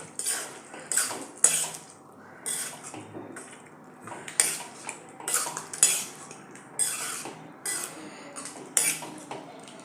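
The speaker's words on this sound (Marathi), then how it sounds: "भाजी जी मॅश करून ठेवली होती ती याच्यात घालूया हलवून घेऊया व्यवस्थित" Mashed vegetables are stirred into pav bhaji in a pan, with repeated rhythmic scraping and clinking of a spoon against metal, fairly close and without voices.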